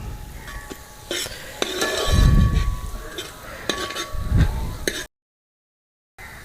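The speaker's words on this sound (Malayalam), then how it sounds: "ഇനി ഇതെല്ലാം കൂടി ചേർത്ത് ഒന്ന് ഇളക്കിയെടുക്കാം." Ground spices being stirred into a masala macaroni mixture in a pan, with repeated scraping and clinking of a spoon against metal and a soft sizzle underneath, near and moderately loud.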